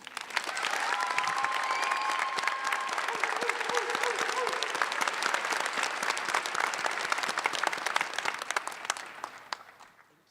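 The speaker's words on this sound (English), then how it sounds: "I hope you give Cassandra an extra big applause." A graduation audience at a high school equivalency ceremony applauds in a sustained, even wave of many hands clapping that lasts several seconds, then thins and fades out at the end.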